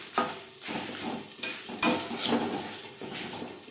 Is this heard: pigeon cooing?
no